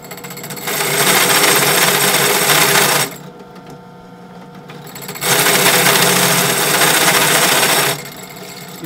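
A compact router runs at a slower speed cutting metal, whirring steadily for a couple of seconds, dropping to a quieter idle, then buzzing loudly again before easing off, close up with no talking.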